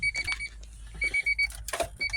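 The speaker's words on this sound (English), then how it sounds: "there's some annoying beeping now" Beeping warning inside a 1993 Honda Accord: a quiet, uneven series of short electronic beeps repeating over a couple of seconds with soft handling noise between.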